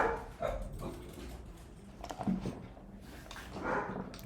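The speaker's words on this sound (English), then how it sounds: "Why are you barking?" A dog barks indoors in a few short, muffled yips and woofs spread over several seconds, fairly faint and irregular, with no talking over them.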